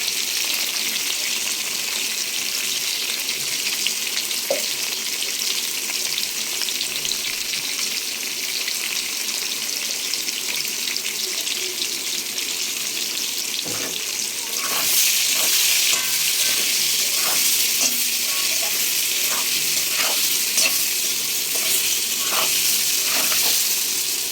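Fish pieces frying in hot oil for a fish curry, a dense continuous close sizzle that grows louder and crackles more sharply partway through, with occasional spatters and no talking.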